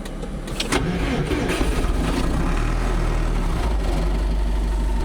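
A tractor engine turned over with the key, hand throttle set halfway, catches and settles into a steady, loud, rumbling idle that continues without a break.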